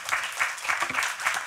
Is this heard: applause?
yes